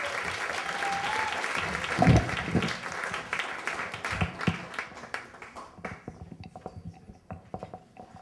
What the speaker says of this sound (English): Clap for Marc Ragovin.